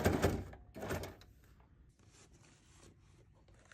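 A sewing machine runs in two short bursts, top stitching a leather piece for a pencil case, followed by quieter handling and rustling with no voices.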